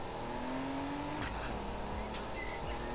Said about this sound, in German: Diesen Gun einlegen klingt immer voll komisch mit dem Wagen.